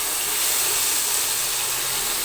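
Garlic ginger paste hitting hot oil in a large cooking pot for degi chicken biryani, a loud, steady, close sizzling hiss that fills the whole moment without a break, no talk.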